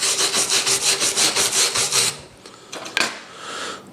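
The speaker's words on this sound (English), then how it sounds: "give those a little wire brush" Rhythmic wire brushing on a 7018 weld, about a dozen quick scraping strokes for two seconds, then quieter scattered scrapes and a sharp tap.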